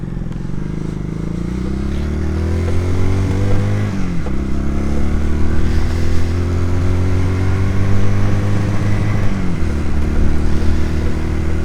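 A Honda CD200 motorcycle engine on a road test drones loudly and close, accelerating through gears with two audible shifts, its pitch climbing between changes, with a slightly uneven, clattery note.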